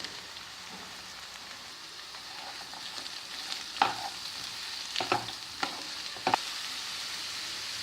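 Ridge gourd pieces hit a hot pan already holding sautéed onions and ginger-garlic paste, giving a soft steady sizzle broken by several sharper crackles and pops.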